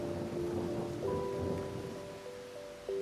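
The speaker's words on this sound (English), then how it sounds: "This rain of today is really out of the ordinary" A steady hiss of falling rain with a low rumble of thunder underneath, heard alone at a fairly faint, even level.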